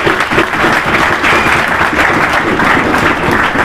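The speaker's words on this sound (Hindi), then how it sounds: "एक बार जोरदार तालियां सुमित के लिए" Dense, steady applause from an audience at a school opening ceremony in Haryana, welcoming a guest who came from Jaipur; loud and continuous without a break, filling the whole stretch with no voices standing out.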